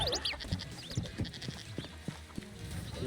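A goat in the Moving Out 2 video game bleats amid busy game sounds, short cries mixed with repeated thuds and chirpy effects, moderately loud, with no talk.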